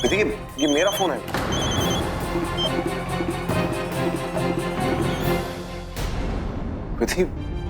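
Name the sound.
mobile phone ringing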